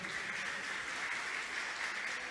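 A church congregation claps together during a Portuguese-language sermon. The applause is fairly faint and sits in a uniform, continuous patter across the short stretch, with no speech heard.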